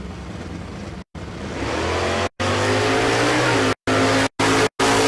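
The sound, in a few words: 6th gen Camaro race car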